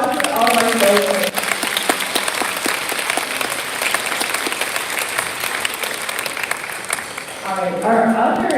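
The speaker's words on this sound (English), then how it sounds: "One more round of applause for all of our children." Sustained applause from an audience for children at a school award ceremony, a dense, even wash of many hands clapping for several seconds, with a voice talking at the start and end.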